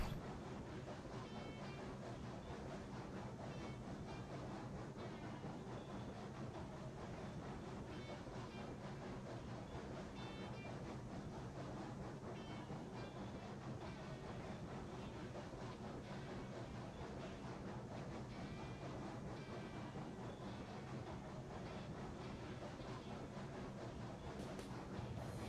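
A Roblox freight train hauling loaded hopper cars rolls through a rail yard, giving a steady, dense rumble with faint clickety-clack that runs unbroken the whole time.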